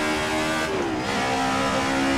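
A DTM Group A race car in Assetto Corsa accelerates at the Nürburgring. The loud, close engine note dips briefly at a shift, then climbs steadily again in a strong rising whine, with no talking.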